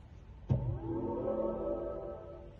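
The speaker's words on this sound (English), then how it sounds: "That's the new start button sound by Hans Zimmer." A BMW i4 electric car's start button sound, composed by Hans Zimmer, plays inside the cabin: a soft swelling synthesized chime with a gentle onset and layered sustained tones that fade slowly, fairly quiet.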